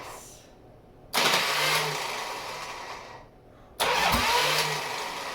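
An Ironhead motorcycle engine cranks and catches twice with throttle blips, each start surging loud and steady before easing off, close and without talk.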